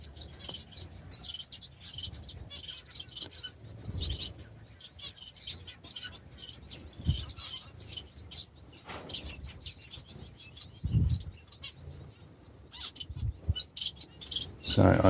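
Aviary-bred Bengalese finches chirp in a busy, continuous chorus of quick high tweets, with occasional low thumps and rustles from the enclosure underneath.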